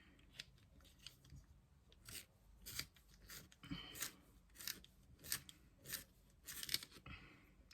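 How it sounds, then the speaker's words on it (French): A graphite pencil is sharpened by hand in a series of about ten short, close, scratchy scraping bursts with brief gaps between them, quiet and with no talking. "Je le taille vite fait, mon crayon à papier."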